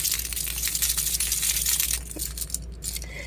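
A small jingly Aibo charm on a lanyard is shaken, giving a dense, bright metallic tinkling and clinking that continues for a few seconds up close.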